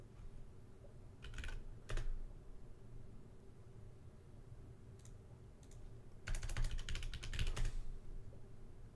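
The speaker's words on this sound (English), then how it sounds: "I'm typing my own natural name in" Bursts of rapid keyboard typing, a few short clusters early then a longer stretch of clicking near the end, over a low steady hum.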